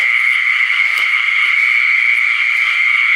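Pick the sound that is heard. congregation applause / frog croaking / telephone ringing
frog croaking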